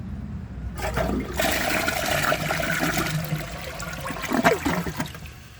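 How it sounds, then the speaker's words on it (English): Sterling Windham toilet flushing close up, a sudden rushing surge of water that roars steadily for several seconds with gurgling swirls and trickling, no voices. "I'm just going to go ahead and flush it again."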